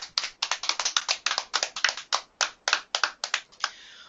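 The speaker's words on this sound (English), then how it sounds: "Can we have a huge round of applause for Ankit, please?" Applause for a guest at an online seminar: a quick, even run of distinct handclaps, fairly faint and dry, as if from only a few hands, tapering off into near quiet at the end.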